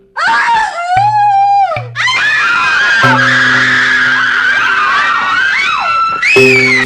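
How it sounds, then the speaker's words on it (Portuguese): Loud, close wailing screams rise and fall in long drawn-out cries for a horror story, layered with sustained eerie tones, a brief gap near the start, and a fresh shriek at the end. "ela ouve os mesmos gritos parecendo vir de 3 direções diferentes"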